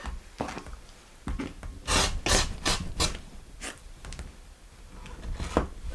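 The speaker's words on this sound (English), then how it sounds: "all I'm going to do now is simply cut in an L shape" Scissors or a cutter cut a patchwork quilt block in an L shape, making a run of close, crisp rasping strokes that bunch together in the middle, with no speech.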